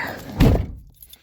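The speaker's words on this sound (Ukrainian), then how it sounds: "Бах, закрив ті дверцята." A single solid thunk of a small door banging shut, close by, followed by quiet.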